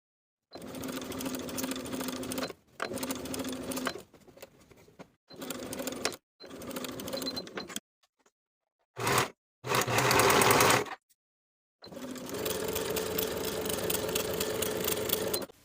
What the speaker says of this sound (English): Sew the curved edge together with a 3/8 inch seam allowance, finish the raw edges.